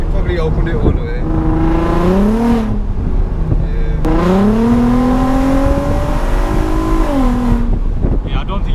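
A loud, throaty VW Golf R32 exhaust with its valves fully open roars through two strong acceleration pulls, the tone rising steadily each time before cutting off, close and booming.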